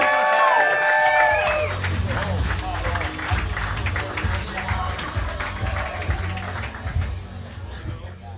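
An audience applauds and cheers for comedian Dan Nolan at a roast battle comedy show, loud dense clapping with whoops that follows a host's voice at the start and then carries on steadily.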